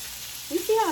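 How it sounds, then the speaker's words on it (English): Small shrimp hit a hot pan with a half teaspoon of butter and start to sear. The sizzle bursts up abruptly midway, loud and close after a quiet start. "Kind of want to get a good sear on it. Then I will add like a half a teaspoon of butter."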